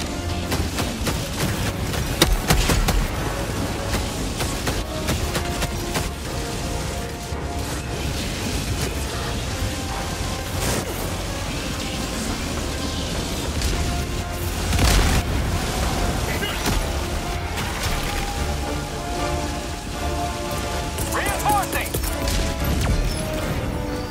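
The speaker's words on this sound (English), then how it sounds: "Firing orbital laser." In Helldivers 2, an orbital laser strike blasts with continuous rumbling booms and crashing impacts that swell and fade over a long stretch, while players keep talking over the din.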